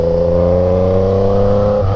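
Yamaha MT-09 motorcycle with a 3-into-1 Atalla stainless steel exhaust, its engine holding a steady, loud, close droning note with strong low harmonics that shifts slightly near the end.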